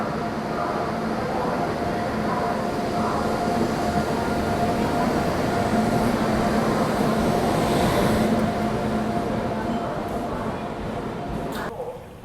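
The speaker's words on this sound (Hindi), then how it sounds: "क्योंकि इकलौती फ़िलहाल अभी वही ट्रेन जो है वो आने वाली है" A loud, steady rumble from a train arriving at a railway platform on a trip toward Vaishno Devi, continuous and close, with a faint voice mixed in.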